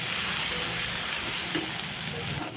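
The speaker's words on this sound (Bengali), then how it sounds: "পরিমাণ মতো হলুদ, মশলা, আর দিয়ে দেব ধনে গুঁড়ো। আর একটু নাড়াচাড়া করে নেব।" Turmeric, salt and coriander powder spice paste sizzles steadily in a pan for a rohu fish kalia curry, with a continuous frying hiss and soft stirring scrapes close by.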